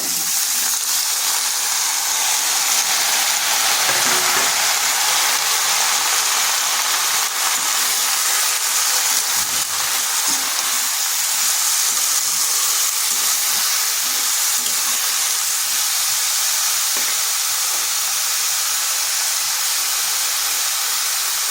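Chopped bottle gourd and chickpeas frying in a pan, a loud continuous hiss and steamy sizzle filling the whole stretch, with faint clinks and scrapes now and then and no voices.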